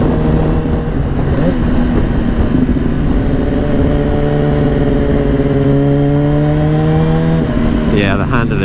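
A 2007 Yamaha R1 sport motorcycle engine runs steadily while being ridden, a loud, sustained drone with its pitch rising and falling gently through the gears. Wind rush sits underneath, and a brief higher-pitched burst comes near the end.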